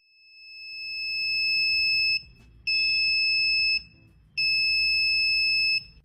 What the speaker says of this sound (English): When an object comes close to the sensor, the system detects it and sounds the alarm.